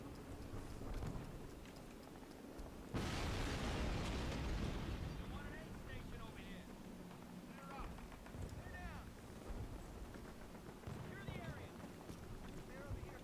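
A grenade blast in Call of Duty's World War II combat erupts suddenly as a loud, broad roar that lingers, with gunfire, wind and shouted voices scattered around the battle.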